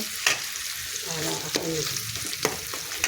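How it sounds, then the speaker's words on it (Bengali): Onions and green chilies fry in a pan, a steady sizzle broken by a few sharp scrapes and clicks as a spatula stirs them close by. "পেঁয়াজ দিয়ে দিয়েছি, লঙ্কা পেঁয়াজ একটু নেড়ে নেবো।"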